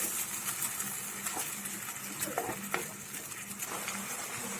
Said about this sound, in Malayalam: അത് ചേർത്ത് നന്നായിട്ടൊന്ന് ഇളക്കി ചേർത്തതിന് ശേഷം നന്നായിട്ടൊന്ന് ഇളക്കണം.